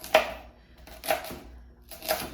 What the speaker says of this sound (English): So once you have the stems, you're just going to rough chop them.